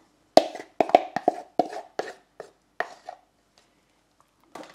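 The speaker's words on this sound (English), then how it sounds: "I'm going to add the two tins of chopped tomatoes." Two tins of chopped tomatoes are emptied into a slow cooker, heard as a series of close, sharp knocks and thuds of the tin and spoon against the pot, about ten in quick succession before it goes quiet.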